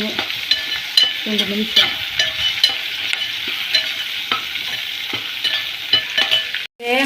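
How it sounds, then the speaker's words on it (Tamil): Onions and okra sauté in a pan for a home Sunday meal, with a steady close sizzle broken by repeated scraping stirs of a spoon against the pan, and a brief spoken word partway through. "வெங்காயம் நல்லா வதங்கினோன்னா வெண்டைக்காய் போட்டு வதங்கணும்"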